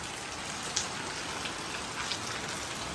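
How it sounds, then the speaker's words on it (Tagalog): Steady rain falls on a flooded farm, a dense even hiss with a few faint drop taps. No voices. "Ulan. Ulang ulit."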